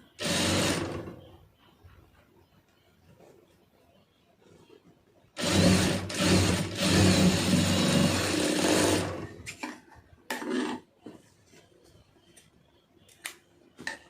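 An electric sewing machine stitches a hook strip, buzzing in one short run, then a longer steady burst of several seconds, followed by a brief spurt and a few scattered clicks.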